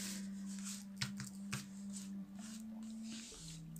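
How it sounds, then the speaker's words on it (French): A tarot deck being cut and cards drawn by hand, with soft papery slides and a few brief flicks and taps close up over a faint steady hum, quiet throughout. "On va couper le jeu"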